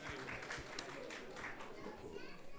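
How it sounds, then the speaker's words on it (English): Applause from a crowd at a Sunday feast gathering at a Hare Krishna temple in Silicon Valley, a dense, quiet rustle of clapping with children's voices and chatter mixed in. "let's give a big round of applause to everyone who has joined us here tonight"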